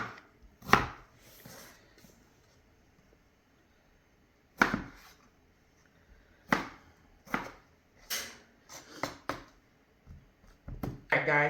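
Knife chopping tough-skinned tomatoes in a home kitchen, heard as sharp irregular chops in short bursts with a quiet pause between, close to the mic; faint talk in places.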